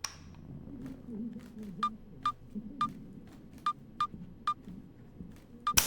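Telephone keypad tones in the video game Twelve Minutes, a series of about ten short electronic beeps at an uneven dialing rhythm over a quiet low background hum.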